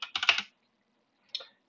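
A short quick run of keystrokes on a computer keyboard typing a command, then silence and a final brief pair of key taps, close and clear with no voices.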